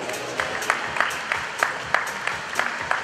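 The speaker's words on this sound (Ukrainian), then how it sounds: "Оплески!" Audience applause at a boxing weigh-in event in Lviv, a steady wash of many hands with some sharper individual claps standing out, moderately loud and continuous throughout.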